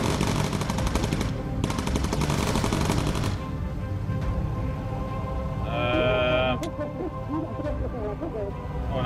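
Bomber gunners firing machine guns in the Bomber Crew video game, with rapid dense bursts for about three seconds, then a steadier rumble with scattered shots and game sounds.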